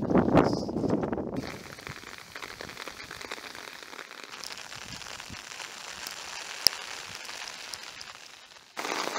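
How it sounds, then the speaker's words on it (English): Steady rain patters through a forest walk on the way to Mount Damper Falls, a broad close hiss of drops on leaves and ground running throughout, with a few sharper drip taps and a louder rustle at the start. "Yep, it's raining."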